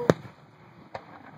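Fourth of July fireworks: a sharp nearby bang, then a second, softer pop just under a second later, with quiet outdoor ambience in between.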